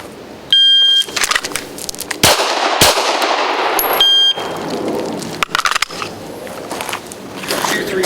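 Two sharp, loud pistol shots are fired from concealment during a timed DeFoor Performance pistol drill aimed at a small target, the reports well separated and surrounded by shuffling and brief electronic beeps.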